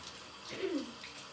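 Warm water running from a kitchen tap while baking a double layered chocolate cake, a faint, steady splashing stream with a slight swell partway through.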